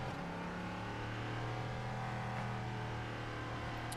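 Race car on the Spa-Francorchamps circuit during a 4 Hours endurance race, a steady engine drone with a constant tonal whine holding for the whole stretch at moderate level, without commentary.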